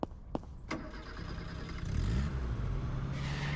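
A car engine in a car dealer simulator game cranks and catches after a few sharp clicks, then rises into a rough, buzzing rev that holds steady, fairly loud with no talk.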